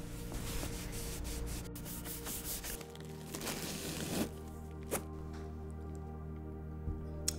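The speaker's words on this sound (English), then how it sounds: "when you wipe it and rub the brass, you shine it up" A cloth rubs and wipes brass hardware on a vintage Coach leather bag, giving soft close scuffing strokes with a few light taps and clicks near the end.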